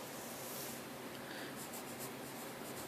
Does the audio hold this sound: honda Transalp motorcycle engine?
no